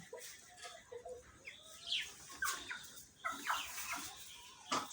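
Tiger chickens with a cold cluck in short, scattered bursts, several birds calling near and fairly loud over quiet farmyard background, with no talk.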